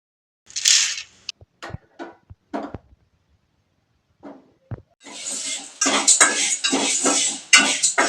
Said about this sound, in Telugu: పప్పు ఇలాగా దోరగా వేగించుకుంటే పప్పు రుచిగా ఉంటుందండి.